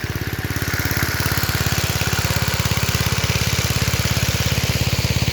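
An irrigation pump engine runs steadily in a farm field, close and loud, with a fast, even thumping beat throughout and no talking.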